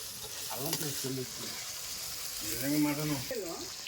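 Ginger garlic paste and masala for a mutton curry fry in a pan while being stirred, giving a steady, close hiss that runs throughout beneath intermittent voices.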